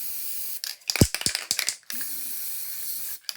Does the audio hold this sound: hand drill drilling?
no